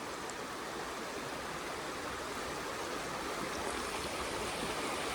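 A mountain stream swollen by monsoon rain flows steadily on a trek to Kudremukh in Karnataka, a continuous close rushing wash of water with no talk over it.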